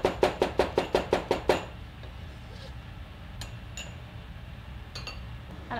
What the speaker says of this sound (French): On coupe aussi le gingembre. Toujours couper en tout petits morceaux.